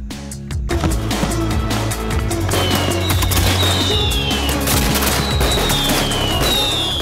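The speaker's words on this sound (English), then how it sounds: "I do 2 fireworks displays a week during the winter seasons for the flare runs for the kids" Dense, continuous crackling and popping from a fireworks display for a children's flare run at Thredbo ski resort, with bursts and whistles overlapping steadily for several seconds, loud and sustained.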